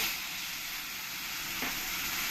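Cumin and coriander spice mix sizzles loudly in a pan after water is poured in, a steady broad hiss of frying and steam that holds without a break.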